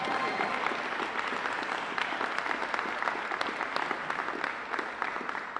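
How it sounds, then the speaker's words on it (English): An audience claps at a university first-day-of-classes event at UIUC, a steady moderate applause of many hands with scattered sharper claps, heard from a little distance throughout. "Yeah, we could clap."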